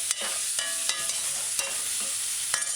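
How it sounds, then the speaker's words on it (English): Vegetables sizzling in a frying pan for curried chicken with thyme and pimento berry, a steady close hiss broken by repeated sharp spoon scrapes and stirring clinks, no talking. "you just stir the vegetable in now."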